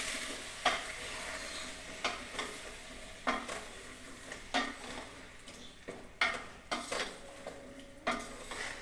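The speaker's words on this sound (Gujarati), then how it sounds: "જો આપણે હવે તેને હલાવી લઈશું સારી રીતે." A spoon works through eggplant masala curry in a pan, scraping and knocking against the metal in repeated strokes while the curry sizzles softly underneath, close and fairly quiet, with no voices.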